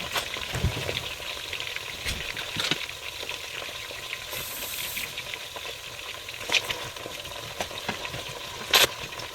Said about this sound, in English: So in our pan, we have 2 big onions and 2 cups of oil on the fire.